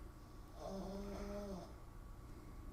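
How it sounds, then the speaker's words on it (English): A dog snores softly indoors, one long drawn-out breath with a faint rasp, heard quietly and alone against a low background hum. "The dog snoring."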